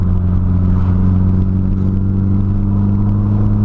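A Nissan Silvia PS13 SR20DET engine with a cheap Jap Speed exhaust idles and revs with a steady low rumble and throaty exhaust drone, close by and continuous throughout.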